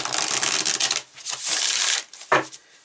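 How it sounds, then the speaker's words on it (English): Tarot cards are shuffled in quick riffling bursts, close and crisp, with a brief pause between rustling runs and a final snap. "I'm going to shuffle again."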